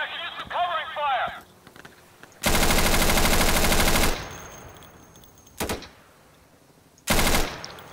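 Automatic gunfire in the tactical shooter game Insurgency, a long loud sustained burst followed by two shorter bursts, after a shouted call from a player's voice.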